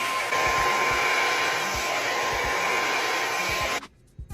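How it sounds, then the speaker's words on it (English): Blow dryer running steadily and close on freshly washed hair, a loud continuous airy whoosh with a constant motor whine that cuts off abruptly near the end, leaving near silence. "Now that we have our hair all fresh and clean, we are gonna blow dry."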